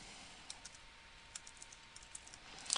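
A handful of soft, scattered keystrokes on a computer keyboard while entering a macro name, faint and quiet with short gaps between the clicks.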